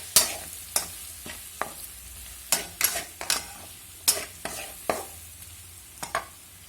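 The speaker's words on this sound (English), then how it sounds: "So I'm going to put biryani masala and I'm going to fry it" Biryani masala fries in a pan over a low gas flame, a soft continuous sizzle broken by repeated sharp scraping stirs of a spoon against the pan, close and without speech.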